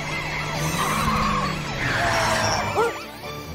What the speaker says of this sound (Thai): รถตำรวจมาช่วยจับผีแล้วเสียงไซเรนน่าจะทำให้ผีกลัว